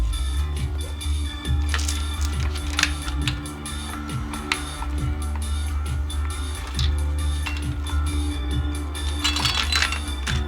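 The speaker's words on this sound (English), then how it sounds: "I can go ahead and put it on and install the master link" Metallic clicks and ticks from fitting a master link onto a bicycle chain cut to length, a steady series of small, close taps and clinks with no talking.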